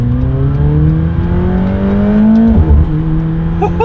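A McLaren 720S supercar engine revs loud and close, the pitch climbing steadily in a sustained pull before dropping sharply, then settling back with a brief rise at the end.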